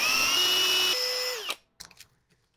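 A power drill whines at high speed, rising in pitch as it bites into wood, then stops abruptly, followed by a few light knocks and clatters.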